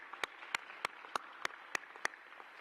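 Sparse, faint hand claps from an audience at a university commencement ceremony on the Utah Asia Campus, a handful of separate claps spaced about every third of a second rather than full applause.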